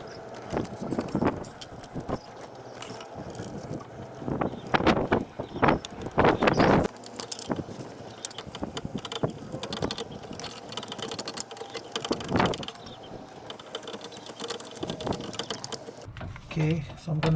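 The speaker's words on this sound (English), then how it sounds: "I'm going to be tightening up my bolt." Bolt being tightened on a starter motor of a 2011 Honda Fit, heard as a busy run of close metallic ratcheting clicks and clanks in uneven bursts, with quieter handling noise between them.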